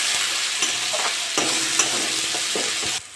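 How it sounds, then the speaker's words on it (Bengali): Green peas tossed in a wok with ginger and green chili give a loud, steady hiss of frying oil, marked by repeated clinks and scrapes of stirring, with no one talking. "আমি এবার কড়াইশুঁটি এটা দিয়ে দেবো। এটা ভালো করে নেড়ে চেড়ে দেবো।"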